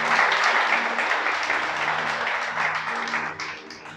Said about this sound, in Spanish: Den un aplauso al Creador, ¿sí?